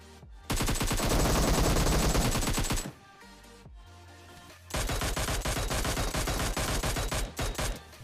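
Gunfire from a squad fight in PUBG Mobile: loud bursts of rapid automatic fire, a long volley, a brief lull with scattered shots, then another sustained burst trailing into a few separate shots.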